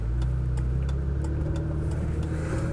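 A 1985 BMW 635 CSi automatic pulls away, its engine giving a steady low, throaty drone with mild revving that stays close and loud throughout, with no one speaking.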